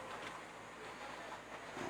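A model railway train runs through a finished layout scene as a steady, continuous rolling rumble with faint wheel clatter, close by and unbroken, with no talking.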